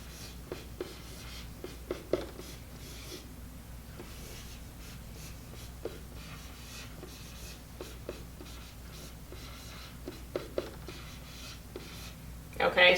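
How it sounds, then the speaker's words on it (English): Pen writing algebra equations by hand on paper, soft scattered scratching strokes heard close and faint, separated by pauses, with quiet breathing and brief speech in between. "I'm going to take these 2 equations, and I'm going to write them down here"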